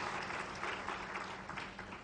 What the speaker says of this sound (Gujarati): એકવાર જોરદાર તાળીઓથી આ બંને સદગુરુને વધાવ્યા